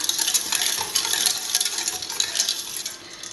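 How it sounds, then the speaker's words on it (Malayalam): A spoon scrapes and swirls through a thick baby porridge mixture in a pan on an unlit stove, a steady, close, continuous stirring without speech. "ഞാനൊന്ന് ഇളക്കി ചേർക്കുകയാണ്."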